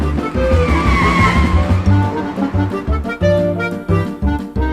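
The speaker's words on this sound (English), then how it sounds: "He can drive off in my car." Cartoon car driving off with its tires skidding, a loud close engine revving in choppy bursts with squealing tones across the short span.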